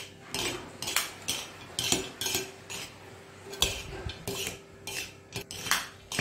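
A utensil mixes masfouf couscous with hazelnuts, dates and raisins in a dish, producing close, repeated metallic scrapes and clinks in an uneven rhythm against the bowl, with no one speaking.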